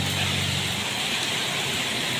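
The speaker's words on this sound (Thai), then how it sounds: "ถนนเส้นนี้ฝนตกแรงนะครับ" Heavy rain at night on a Thai road, heard from a moving vehicle as a loud, dense, steady hiss throughout, with no talk.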